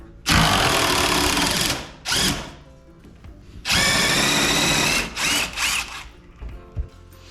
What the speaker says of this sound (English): drilling through the jack plate mount into the wedges mount